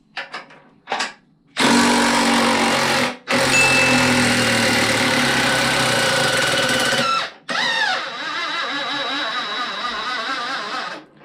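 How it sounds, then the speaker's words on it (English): A minibike with a Predator 212 engine being raised on a jack, loud rapid mechanical pumping bursts with short pauses between and a lower whirring stretch at the end. "so I'm going to go ahead and just jack this thing up"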